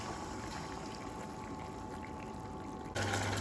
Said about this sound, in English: I'm going to add in some rice wine, about 2 tablespoons of rice wine.